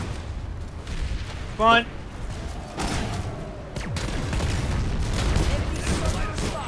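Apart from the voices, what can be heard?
gunfire shooting mines in video game Planetside 2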